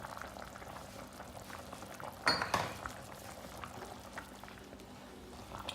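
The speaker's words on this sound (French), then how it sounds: "je prends le blanc d'œuf que je vais verser aussi à l'intérieur" Chicken soup simmers with a steady, soft bubbling while egg white is poured in, and a brief clatter of a utensil against the pot cuts through midway; quiet and close, with no voices.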